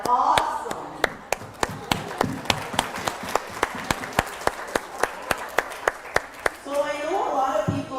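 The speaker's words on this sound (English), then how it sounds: "give yourself a round of applause" Steady, evenly spaced hand claps ring out, about twenty in a row, with a voice talking briefly before and after.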